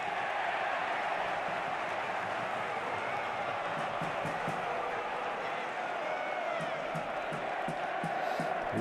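A packed stadium crowd at an Atlético Madrid versus Barcelona Copa del Rey semifinal cheers in a dense, continuous roar, with whistles and shouts rising toward the end and commentary spoken over it.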